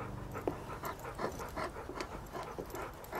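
A dog pants steadily in quick, rhythmic breaths, close by but fairly quiet, with no talking.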